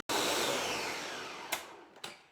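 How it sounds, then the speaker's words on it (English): A blender whirs loudly while blending eggless vegan mayonnaise, a steady high-pitched motor drone that slowly lowers, then two brief louder pulses near the end. "now I'm putting it in the blender till it's smooth"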